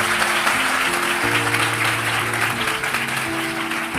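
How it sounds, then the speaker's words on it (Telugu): An audience at a Bible study speech breaks into loud, sustained applause, dense clapping filling the whole stretch with music playing underneath. "కొట్టండి చప్పట్లో."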